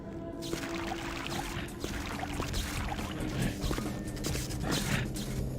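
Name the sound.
water flowing in the video game Vampire: the Masquerade - Bloodlines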